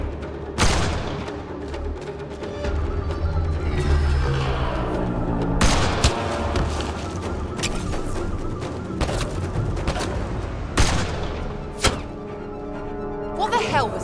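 Video game gunfire in Mass Effect Andromeda during a sniper fight, scattered loud shots and heavy thumps over a dense action soundscape with music-like tones, while voices speak throughout.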